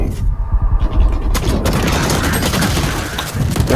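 Loud, dense gunfire in a Valorant-style shooter video game, with a rapid burst of shots early on and then a sustained wash of firing and booms close up.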